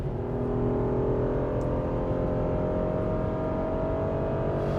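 A 2010 Porsche Cayenne with its base V6 of a little under 300 horsepower cruises along, giving a steady, even engine drone with a faint whir that holds at a constant level throughout.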